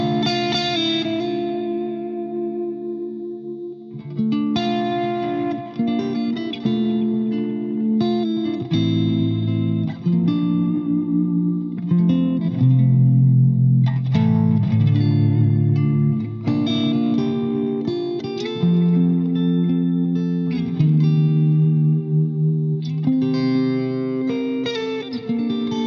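Suhr Oso electric guitar with a long scale length and tremolo bar, played through effects with distortion, chorus and reverb, giving loud, sustained chords and melodic lines that ring on continuously with no talking.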